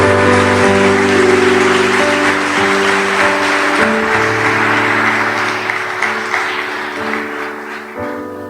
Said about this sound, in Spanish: Dele un aplauso a Dios por lo que ha hecho en nuestras vidas